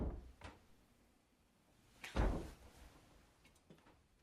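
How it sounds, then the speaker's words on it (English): A dull, heavy thud against a wooden closet door in a horror film scene of a girl banging her head, sounding close and solid after a faint earlier knock, in a quiet room. "Cindy is banging her head against the closet."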